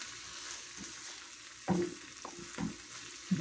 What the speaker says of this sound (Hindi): बस इसकी थोड़ी सी भुनाई करते हैं,